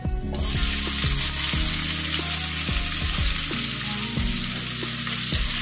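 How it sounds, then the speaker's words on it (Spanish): Onion goes into hot oil that already holds pork jowl, bringing a loud, steady sizzle and crackle that runs the whole time, with a few light knocks of a utensil stirring in the pan. "en el mismo aceite vamos a poner la cebolla"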